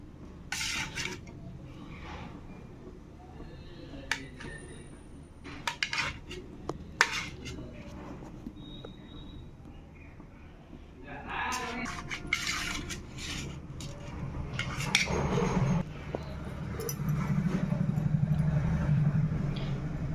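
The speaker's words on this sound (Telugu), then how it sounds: "ఇప్పుడు చిన్న చిన్న పీసెస్ కింద ఈ జిన్ను మొత్తాన్ని కట్ చేసుకోండి" Knife chopping a steamed egg junnu into small pieces on a board, scattered taps and clinks with scraping between them, close and moderate, busier and louder toward the end.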